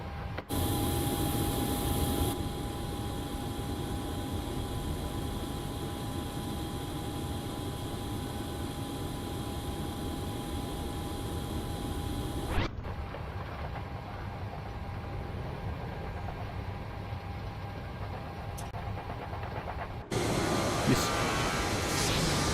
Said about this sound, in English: Right, let's go ahead and get the engine started.